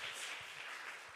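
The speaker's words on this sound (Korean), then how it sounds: "제자훈련 17주간 섬겨주신 우리 스태프분들에게도 박수 한번 해주시고." Church congregation applause for discipleship training staff comes as a dense, even wash of clapping across a brief stretch, fairly soft and heard without voices.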